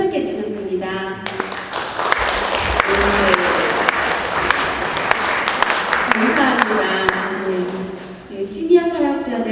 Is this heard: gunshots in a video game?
no